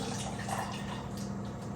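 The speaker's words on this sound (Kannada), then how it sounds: "ಮತ್ತೆ ಸ್ವಲ್ಪ ನೀರು ಹಾಕ್ಬಿಟ್ಟು" Steady pouring of water in a kitchen, a continuous splashing rush at low level throughout, with no voices.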